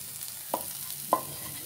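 Bottle gourd peels stirred in a frying pan with the other ingredients for a mashed side dish: two distinct scraping strokes about half a second apart over a faint, steady sizzle, no voices.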